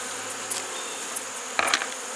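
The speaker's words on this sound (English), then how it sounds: "these bees are all robber bees" Robber honey bees buzzing around a hive box in an apiary, a faint steady insect drone with a few brief closer buzzes passing near.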